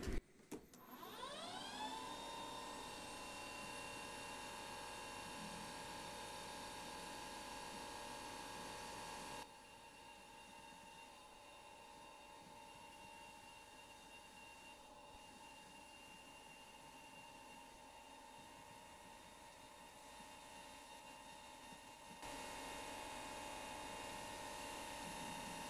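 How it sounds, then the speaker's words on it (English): Lathe drilling a deep hole with the drill fed by the carriage, a steady faint high-pitched whine over a constant motor hum, running continuously for about twenty-five seconds with a slight shift in tone partway through. "that's already considered deep hole drilling"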